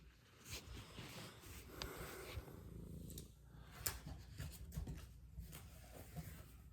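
A pet cat purrs softly and steadily up close, a low continuous rumble at a quiet level with faint rustling, and no talking.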